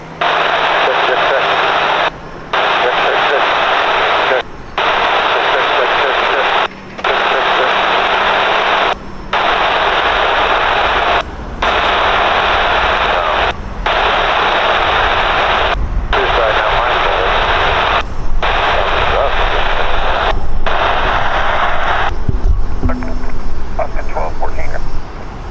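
A Delta airliner takes off at Portland airport, a loud, steady broadband jet roar lasting throughout, broken by brief regular dropouts and rising slightly toward the end.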